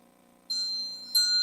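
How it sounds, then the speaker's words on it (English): A spirit bell magic-trick prop with no moving parts gives two bright rings, the first a sustained clear tone and the second a sharper strike, both close over a quiet background. "It will make a nice bell sound,"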